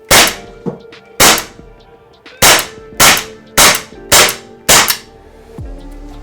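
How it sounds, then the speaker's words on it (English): An Umarex T4E PPQ paintball pistol fires eight sharp, loud cracks in a fairly steady rhythm at close range, each with a metallic ring and short decay, and a final softer pop at the end. "I do also kind of want to demonstrate how loud this is."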